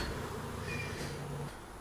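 Nurse honeybees crowded in a small nuc hive buzz in a low, soft continuous drone, with a single bee's tone rising briefly near the microphone before fading, no speech present.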